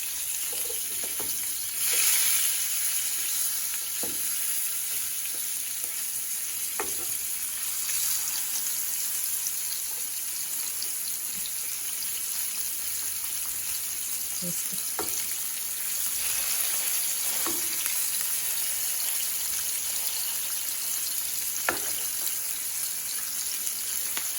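A salmon fillet sizzles in a frying pan with a steady, close hiss of hot fat, broken by occasional crackles and soft clinks. No one speaks.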